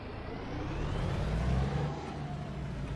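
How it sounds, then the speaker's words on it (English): A Hall Scott engine in a Peterbilt 350 truck in American Truck Simulator rumbles steadily and loudly, with a deep low drone and a slight swell in revving partway through. "I put the Hall Scott engine in it."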